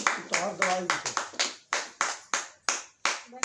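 An audience claps in unison, each sharp clap landing in an even, steady rhythm about three times a second, close and fairly loud, with a brief voice at the start.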